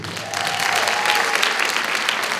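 An audience at a music festival TV concert in Los Angeles claps loudly, the applause swelling after a brief start and then continuing dense and steady to the end.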